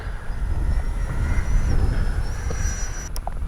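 An FMS 70mm Yak v2 RC jet diving at high speed produces a loud, steady ducted-fan roar with a thin whining tone that climbs and shifts in pitch, close and continuous, without talk.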